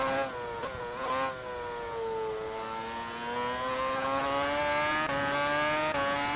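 High-revving Formula 1 engine (McLaren MCL38, Mercedes W11 or Ferrari F2004) lapping Suzuka in a racing video game, a loud continuous whine rising and dipping through gear changes and corners, alone without talk.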